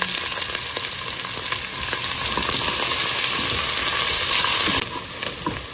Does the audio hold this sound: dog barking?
no